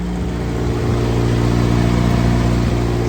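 A 1966 International Scout engine runs steadily up close, a loud, even mechanical drone with a deep low rumble that holds for a few seconds without a break.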